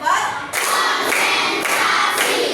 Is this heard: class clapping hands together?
yes